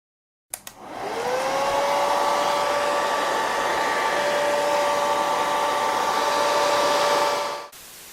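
A hair dryer blows steadily and close for about seven seconds, heating a vinyl skin on an iPhone 6, its whine holding a constant pitch from switch-on to switch-off.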